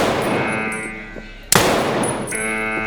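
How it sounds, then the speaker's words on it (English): Gunfire in Escape from Tarkov on the Reserve map, with a single sharp, loud shot cutting through steady in-game ambience and a low rumble midway through. "He's popping shots at me!"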